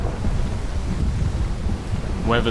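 A thunderstorm rages at sea in the sailing video game Will: Follow the Light, a loud, constant rumbling roar of wind and rain with a brief tonal sound near the end.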